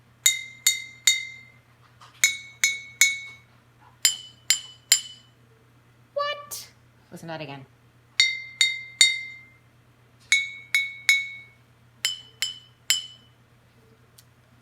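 A glass bottle holding water is tapped in quick bright clinks, mostly three or four strikes per group repeated across the stretch, ringing cleanly over a low steady hum, with a short spoken question heard in the middle.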